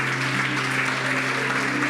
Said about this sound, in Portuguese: Você tem um aplauso longo, bonito para dar ao Senhor?